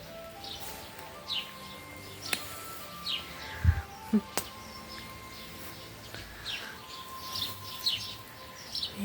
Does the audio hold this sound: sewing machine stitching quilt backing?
no